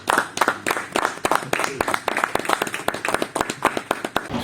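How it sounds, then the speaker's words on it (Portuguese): Lively applause from workshop participants: a dense, fast run of sharp, close hand claps keeping an uneven rhythm and continuing steadily for several seconds. "eu gostava de deixar uma salva de palmas"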